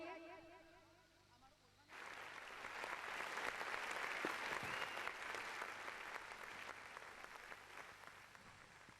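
Audience applause at Nilkanth Kanya Vidhyalaya's Thanganat 2020 school annual function. A quieter stretch opens, then dense, sustained clapping swells in at about two seconds and continues loud and steady to the end.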